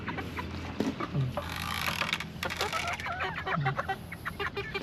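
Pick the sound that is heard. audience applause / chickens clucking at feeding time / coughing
chickens clucking at feeding time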